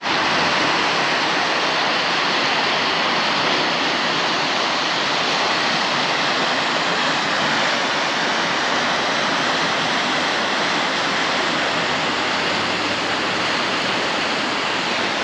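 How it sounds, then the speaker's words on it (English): The Vedder River running high and flooded after a rainstorm, a loud, steady, broadband roar of rushing water that continues unbroken throughout with no voices. "Okay, so the river is definitely up"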